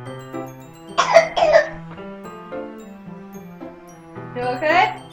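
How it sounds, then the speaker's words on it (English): A young girl fakes coughs in a couple of short bursts, and a further cough follows a few seconds later, heard up close indoors in a classroom. "No more fake coughing."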